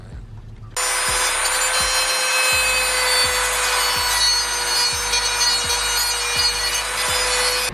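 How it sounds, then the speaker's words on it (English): Dremel rotary tool smoothing the edges of cut notches on a Lexus LS400, a steady high whine with repeated grinding passes at a regular rhythm, loud and close after a brief quiet start; no talk. "We're gonna just smooth out these edges with the Dremel and see how that works."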